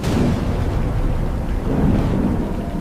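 Heavy rain with deep, rumbling thunder rolling under it, a dense, low and loud roar that swells again toward the end.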